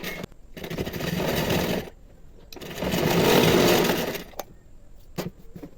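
A sewing machine stitches a strip of fabric in two bursts of fast, steady whirring, separated by short pauses with faint handling clicks.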